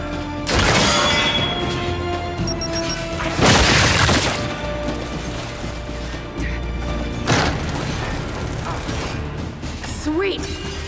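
Frag grenade blasts in the Gears 5 shooter game, a few loud broadband booms with crashing debris spread across the stretch amid ongoing combat noise and game sounds.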